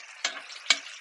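Butter melting in a hot pan for steaks, a soft sizzle with two sharp spattering bursts about half a second apart, close and brief, no voices.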